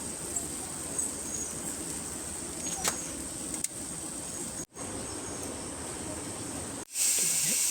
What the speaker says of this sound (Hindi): तो मैंने इसमें अभी कांदा अदरक और मिर्ची जीरा सारा चीज़ें डाल दिया है और फिर इसको फ्राई करेंगे